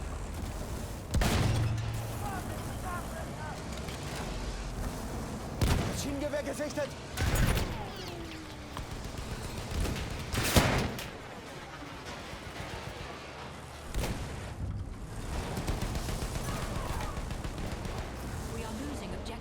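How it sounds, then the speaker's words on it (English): Tank canister shot firing in a Battlefield 1 battle, several loud booming blasts spaced a few seconds apart over constant war-game noise and rumble, with voices talking throughout. "The canister shot is so good"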